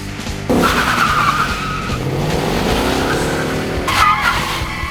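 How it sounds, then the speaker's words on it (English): A car engine revs hard as tires skid and squeal, loud and close, the screech surging, easing, then flaring again near the end. "rev up your engine!"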